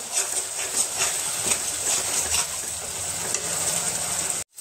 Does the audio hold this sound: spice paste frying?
yes